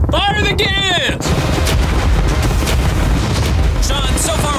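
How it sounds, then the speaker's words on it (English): Cannons, fireworks and other weapons firing at a yacht in a dense, continuous barrage of booms and crackling bursts, loud and close. A voice shouts briefly at the start. "Fire the cannons!"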